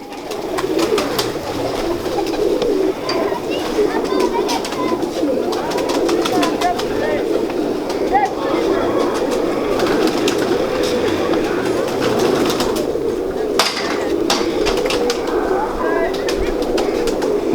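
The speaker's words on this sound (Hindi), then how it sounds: "ये जी गोल्डन कबूतर है जी मियाँ साहब वाले" Golden pigeons of the Mian Sahib line on a rooftop give a steady low cooing, a dense continuous murmur of several birds, with faint talk and other birdcalls mixed in throughout.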